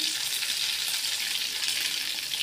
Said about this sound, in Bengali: মাছ ভাজি